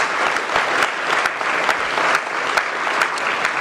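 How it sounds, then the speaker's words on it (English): A breakfast club crowd in Detroit applauds Roger Penske, steady dense clapping filling the room throughout with sharper individual claps popping out now and then. "So let's give him a round of applause."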